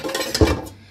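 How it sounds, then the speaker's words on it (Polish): A cooking pot is pulled out from a stack of pots in a kitchen, giving a brief muffled knock and scrape of metal against metal, close by. "Wyciągam sobie ten garnek, na górze stoi."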